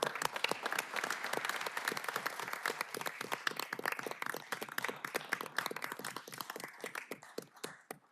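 Audience applause at a city council meeting: many hands clapping in a sustained, crisp patter that slowly thins out and fades into scattered claps near the end, with no talking over it.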